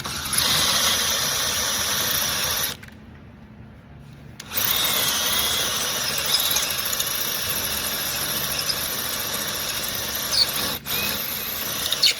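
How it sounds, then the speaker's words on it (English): A power drill whirs steadily at close range drilling into a broken 10 mm steel bolt on a Mercedes control arm, cutting out briefly for a couple of seconds, then resuming its continuous grinding drone. "Drilling 1/4 inch."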